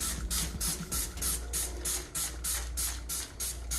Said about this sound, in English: There's more of it, so I'm gonna need to spray on it